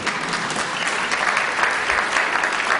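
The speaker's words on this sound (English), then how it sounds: "You can clap. You can clap." Audience applause fills a chamber during a governor's 2023 State of the State address, a dense, steady wash of many hands clapping that holds at an even level throughout without voices.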